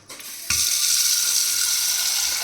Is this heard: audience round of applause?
no